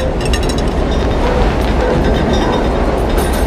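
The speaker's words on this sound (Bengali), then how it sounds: "যখন ট্রেন যায় সারা বাড়ি থরথর করে কাঁপে।" A loud, continuous rumbling roar with rattling metallic clatter of a subway train passing close by, sustained without pause.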